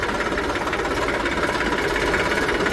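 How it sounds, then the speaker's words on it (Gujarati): A tractor engine idles close by with a continuous, even rumble and chug, holding steady throughout with no voices. "ટ્રેક્ટર પણ આવી ગયું"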